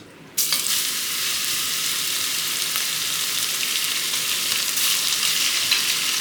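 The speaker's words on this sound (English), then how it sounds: "To fry the meat when having very much fat in here, it is not dry, it is bathing in fat actually." Meat frying in plenty of beef tallow for Texas chili, a loud steady sizzle and crackle that starts abruptly and holds evenly throughout, close up with no talking.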